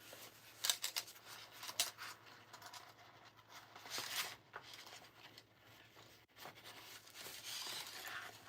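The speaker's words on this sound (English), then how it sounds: "I'm going to trim down a little bit from the sides, just for bulk" Scissors snip through the sewn fabric edges of a tote bag to cut down bulk, giving a series of close, crisp cuts and rustles of cloth, with no talking.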